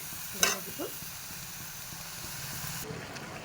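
Shredded cabbage sizzles steadily in a hot pan with a soft continuous hiss, opened by a brief clatter as it drops in, and a voice speaks quietly underneath.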